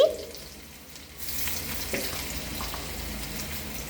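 Crushed garlic hits hot coconut oil with mustard seeds for a broccoli stir-fry, and after a quiet second a close, steady sizzle and crackle flares up and keeps going without any talk.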